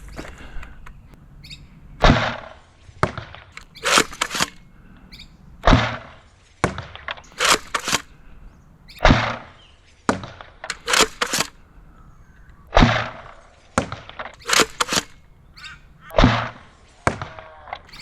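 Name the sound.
Sabre M20C airsoft gun shots hitting a target at 20 meters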